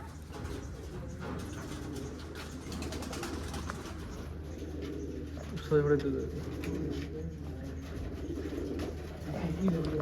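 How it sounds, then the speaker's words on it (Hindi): A Sialkoti pigeon coos softly at close range, its low throaty calls rising briefly amid someone talking and faint background noise. "सियालकोटी कबूतर देखिए एक"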